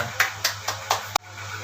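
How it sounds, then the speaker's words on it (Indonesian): A few sharp hand claps ring out in a steady rhythm, about five spaced strokes close by in a quiet teaching room, ending abruptly. "Tepuk tangan buat kalian semua"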